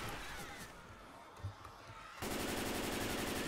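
Gunfire in the video game Left 4 Dead 2, first a dense run of rapid shots under scattered game noise, then a sustained loud burst of automatic fire that carries on to the end.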